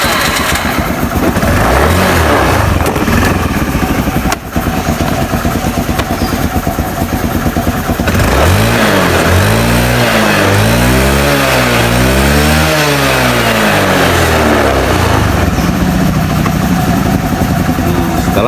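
A carbureted Honda Beat scooter engine runs loud and close during a battery charging test, idling steadily and then revving up and down in rising and falling swells.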